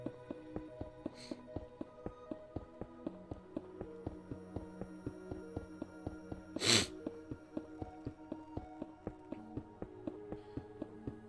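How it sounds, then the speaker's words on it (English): One sharp sneeze bursts out near the mic partway through, loud and brief, over quiet background music with regular soft taps and clicks from game play. "I don't know why I'm sneezing so badly"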